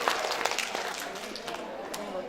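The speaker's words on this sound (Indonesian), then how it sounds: "Tepuk tangan lah buat Ibu semua" Mothers at a child growth-monitoring health session are applauded by a small audience, a loose patter of clapping running steadily for a couple of seconds at moderate distance.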